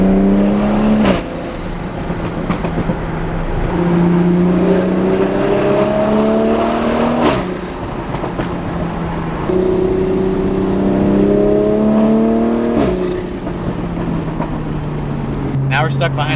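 A Nissan 350Z drives on the road, engine tone climbing steadily through gears with sharp shift breaks, heard from inside the car with road noise underneath.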